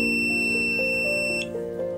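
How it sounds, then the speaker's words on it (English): A steady high-pitched Arduino buzzer drones continuously as an overpopulation alert, with a few soft clicks underneath, fairly quiet and close. "That's why the buzzer is making sound and the red LED is glowing."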